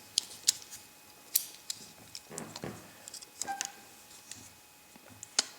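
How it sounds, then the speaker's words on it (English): Spring-loaded scissors on a Gerber MP400 multi-tool snipping and clicking open and shut, with sharp metallic ticks in an uneven series, close and fairly quiet. "The scissors are just from that spring there. Just pushing them back up."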